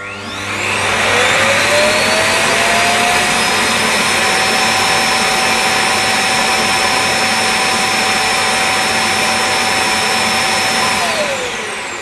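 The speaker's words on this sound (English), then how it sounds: "Start dust collecting." A Coredy L900X robot vacuum dock empties dust in a loud whirring roar that rises in pitch as the motor spins up, holds steady for about ten seconds, then winds down, with no one talking.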